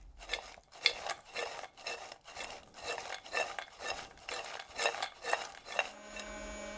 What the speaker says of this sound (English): you want to toss them to mix in the flavors